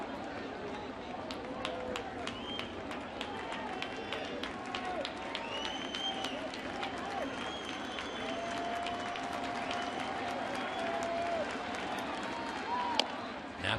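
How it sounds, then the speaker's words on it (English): Red Sox baseball crowd at Fenway in 2015, a steady broad roar of cheering and scattered applause from a thinned-out stadium audience, with commentators talking over it throughout. "whatever crowd's left still into it very much"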